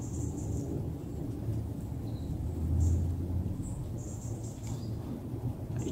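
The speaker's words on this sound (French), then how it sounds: "Vous entendez le tonnerre ?" Thunder rolls as a low, muffled rumble that swells briefly midway and then fades back under steady outdoor ambience with faint high chirps.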